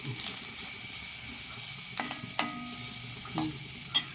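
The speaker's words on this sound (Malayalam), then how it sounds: "ഇതിനകത്തേക്ക് തേങ്ങ കൂടി ഇട്ട് നന്നായിട്ട് ബ്രൗൺ നിറമാകുന്നവരെ മൂപ്പിച്ചെടുക്കാം" Steady faint frying hiss as grated coconut roasts in a pan, with a few scraping stirs of a spoon against the pan, spaced irregularly.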